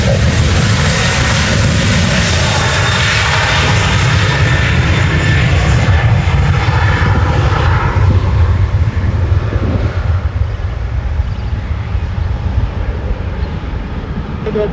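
A Boeing 737-8AS(SF) cargo jet roars down the runway on a powerful departure, its broad, loud engine rumble sustained throughout and slowly thinning as it climbs away.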